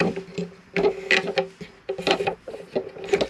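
A boom-arm table bracket lever in an Auto Trail Tracker FB motorhome is unscrewed, giving a close series of light mechanical clicks, rattles and knocks in short bursts.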